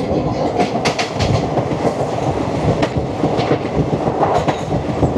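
Paharia Express train running on the tracks: loud, continuous rumble from inside the coach with rhythmic clickety-clack of wheels over rail joints and occasional brief metallic squeals, no voices.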